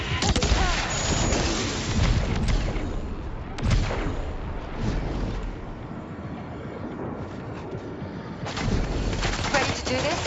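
Gunfire in the video game Death Stranding 2: On the Beach, with heavy booming shots and rattling bursts that hit again and again over about ten seconds, loud and continuous.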